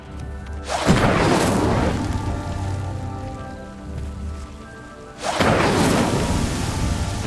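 A fire spell cast in the video game Hogwarts Legacy sounds as a loud whooshing burst. It is followed by a second strong blast several seconds later, with a dense roar filling both bursts.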